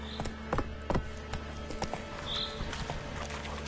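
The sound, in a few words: horse galloping hooves in the video game The Witcher 3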